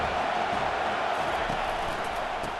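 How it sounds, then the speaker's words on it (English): Stadium crowd noise in EA Sports College Football 25, a steady, dense roar of cheering fans that stays loud and constant throughout, with no pauses or individual voices standing out. "Decibels rising as the crowd gets behind this defense on third down."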